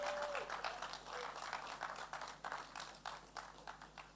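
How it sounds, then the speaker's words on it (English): Audience applause at an esports championship, a steady wash of many hands clapping through the whole span, fairly distant and moderately quiet, with faint voices mixed in. "Let's keep that round of applause going"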